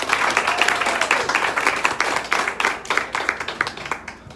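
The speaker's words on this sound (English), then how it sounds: "So for that, Brandy, we applaud you" An audience at a book signing claps steadily for several seconds, a dense roomful of hands that thins slightly toward the end.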